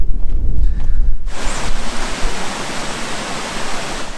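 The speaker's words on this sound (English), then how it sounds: "Now that water starts to be refreshing, that is actually melting snow from the Olympus mountain" A mountain stream of snowmelt water flows down from Mount Olympus through a Greek valley. It begins as a low rumble and then opens into a loud, steady broadband rush of running water.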